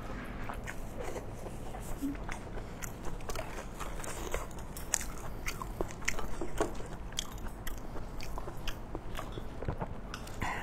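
Steamed salty pork belly eaten with kimchi and white rice, heard as steady close-up chewing and crunchy bites with small wet squishes running throughout, no talking.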